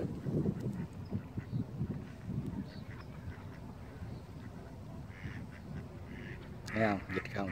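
Wild ducks, including green-headed mallard drakes, quack outdoors somewhere in the USA, with a burst of calls near the end over steady background noise while people talk.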